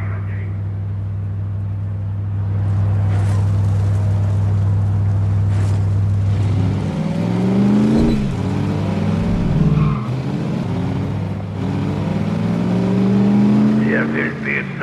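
A tank engine in The Saboteur hums low and steady at first, then grinds and rumbles as it moves, with voices talking over the engine noise.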